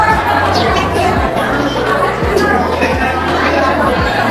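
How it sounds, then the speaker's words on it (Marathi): Dense crowd of devotees filling a temple on the new-moon day at Shri Kshetra Adamapur, a continuous babble of many voices close around with a speaking voice over it. "तर बघू शकता तुम्ही संपूर्ण मंदिरामध्ये आज किती गर्दी आहे"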